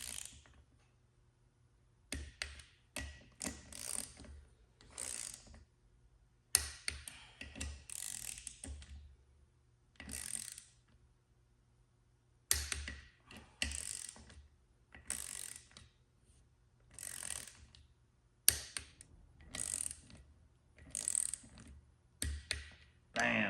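A ratchet torquing lug nuts on a 1986 Toyota pickup fitted with 38-inch Milestar Patagonia tires and beadlock wheels, with repeated bursts of fast metallic clicking and short pauses between, close and fairly loud.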